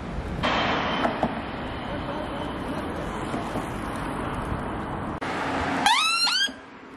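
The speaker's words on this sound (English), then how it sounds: "It is pretty mad how many cars are still out past midnight though." Traffic passing at night past midnight in central London near the bridge by County Hall, a continuous loud roar of cars going by, ending with a sharp burst of horn-like tones.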